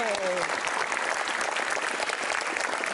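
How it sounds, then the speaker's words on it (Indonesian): An indoor audience at a motivational seminar bursts into dense, loud applause that holds steady throughout, with a voice briefly audible at the start. "Tepuk tangan dulu"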